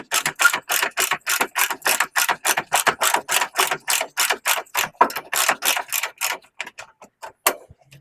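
Rapid ratcheting clicks from a wrench backing a nylock nut off a bumper bolt on an MG, around two dozen quick even bursts in steady rhythm, close and clear, slowing and trailing off near the end.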